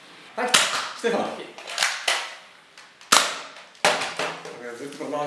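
Toy cap gun fired repeatedly in a casual vlog setting, about five sharp close cracks in an uneven rhythm, with some voices in the background.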